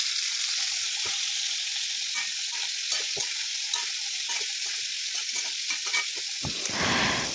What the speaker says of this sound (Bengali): তো এই যে পটল ভাজা করছি, দেখো তোমরা, পটল ভাজছি একদম সিম্পল